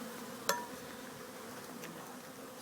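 Honeybees buzzing as a hive is being installed, a soft continuous swarm drone heard close up, with a single sharp tap or knock near the start.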